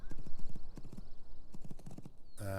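Horse hooves clip-clopping in the Legends of Aria video game as a horse is ridden into a building, a quick run of close hoof knocks ending in a loud sustained tone.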